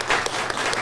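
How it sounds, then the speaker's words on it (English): Brief burst of audience applause after a talk, a dense wash of clapping heard close and fairly loud throughout the short moment. "round of applause, absolutely amazing"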